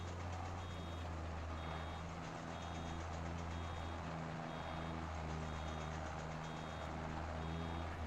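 Repeated vehicle reversing beeps from farm machinery in Farming Simulator 22, a steady evenly spaced beeping over a constant low engine drone, with no talk.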